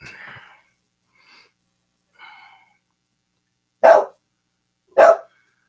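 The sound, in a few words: dog barking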